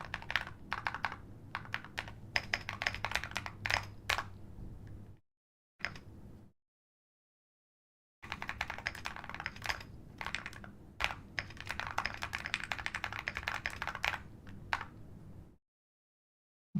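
Rapid clicking keystrokes on a computer keyboard, steady bursts of typing broken by a couple of short pauses, close and fairly quiet.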